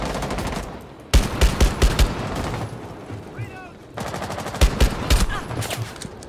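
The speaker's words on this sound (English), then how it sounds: "What are y'all shooting at over there?" Loud bursts of rapid automatic gunfire in the video game Rainbow Six, arriving in two clusters of close, sharp shots separated by a quieter stretch of background noise.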